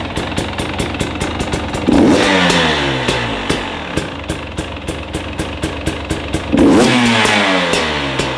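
A KTM dirt bike with a new raspy exhaust revs hard twice, loud and close, with crisp popping pulses between sharp rising blips.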